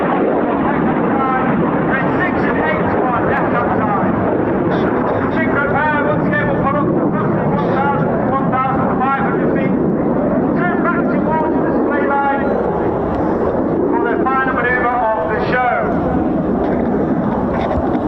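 Red Arrows jets passing low at roughly 100 feet during the RAF Cosford air show, a loud sustained engine roar under a continuous public-address commentary voice.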